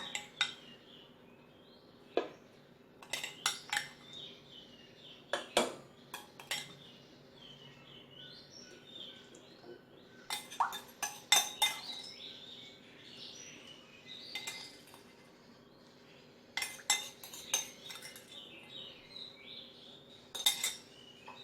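Marinated pork ribs for an oven-baked sauce dish are placed into a pot in a kitchen, giving faint, scattered clinks and clatters of utensils against cookware over about twenty seconds, with light bird chirps in the background.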